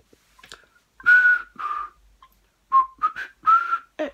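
A person whistles a short melody, clear and close, in a few separate phrases with brief pauses between them.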